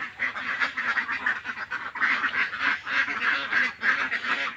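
A flock of egg-laying farm ducks at a snail-stocked pond quacking constantly, overlapping calls pulsing in rhythmic bursts at fairly close range, no talking.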